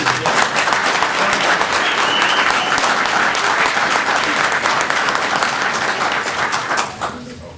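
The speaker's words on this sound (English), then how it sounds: "One more round of applause." Loud, sustained applause from a crowd at a county commissioners' meeting, dense clapping that carries on evenly before fading away at the end.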